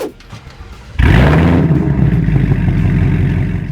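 A 2022 Ford Mustang GT tuned to 670 horsepower sits quietly, then its engine bursts into a loud, close roar and holds a deep rumbling drone as the car pulls away.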